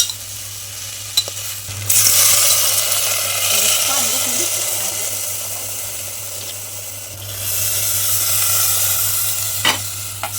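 Water poured onto roasted rice spices in a hot pressure cooker for masala bhaat brings two loud, close hissing surges of sizzle and steam, each lasting several seconds, with quieter bubbling and faint clinks between them.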